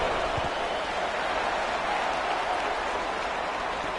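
A broad, steady roar of a large football stadium crowd cheering and clapping, dense and continuous, with no distinct voices standing out.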